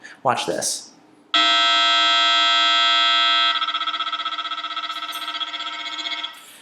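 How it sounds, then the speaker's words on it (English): Escort Max360 radar detector sounding a loud, steady electronic alert tone that switches after a couple of seconds to a pulsing, warbling pattern for K and Ka band, with a brief voice speaking just before it starts. "Notice how in this situation it went ahead and just started alerting us to Ka band immediately."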